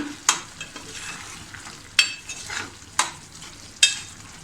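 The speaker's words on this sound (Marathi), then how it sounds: "आम्ही 1 टॅमॅटो घेतला होता, तो टाकते. थोडं परतून घेऊया." Tomato sautéing in a hot pan for a potato and pea curry, a steady sizzle broken by four sharp spoon scrapes and stirs against the pan, close and with no voices.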